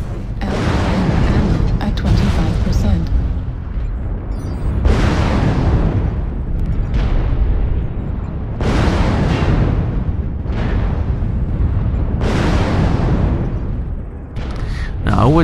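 Mech weapons in MechWarrior Online fired from a Catapult A1 at a King Crab, a run of heavy booming blasts and explosions every couple of seconds, loud and close, with some talking underneath.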